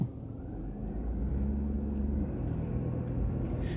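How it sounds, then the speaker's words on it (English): A car driving through the streets of Kokomo, Indiana, heard from inside as a steady low engine and road rumble with slight tonal hums, constant and moderately loud, no talking. "now I will start driving around"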